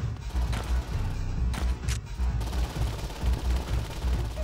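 Gunfire in the game Saints Row 2, rapid automatic bursts and repeated shots in a steady, pulsing rhythm with a few sharp louder cracks, fairly close and continuous.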